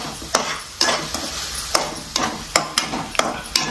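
Andhra-style chilli chicken is stirred and fried in a pan, with a spoon scraping and knocking at a quick, regular rhythm over a continuous sizzle, close and fairly loud, without talking.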